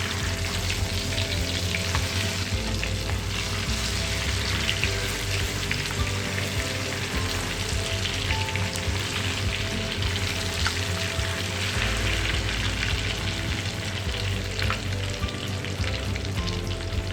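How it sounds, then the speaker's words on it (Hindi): A whole chicken for Lahori chargha frying in about half a cup of oil until golden, a loud, dense, unbroken sizzle and crackle like heavy rain, close and steady throughout with no talking. "अब इसमें डालें चिकन। चिकन को तमाम साइड से अच्छी तरह से गोल्डन कर लें।"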